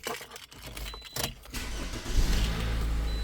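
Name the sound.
2011 Toyota RAV4 2.4L engine starting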